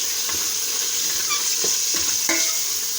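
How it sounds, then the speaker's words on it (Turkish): Meat, onion, tomato paste and green and red peppers sautéing in a pan for a chickpea stew, a loud steady sizzle with several scraping stirs of a utensil scattered through it, no speech. "Etlerimizin üzerine soğanımız, salçamız, etimiz güzelce kavruldu."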